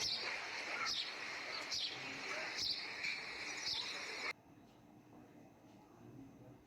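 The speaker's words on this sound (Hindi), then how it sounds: "चिड़ियों की चहचहाहट।" Repeated bird chirps ring out in quick bursts over a steady background, then stop abruptly, leaving quieter ambience.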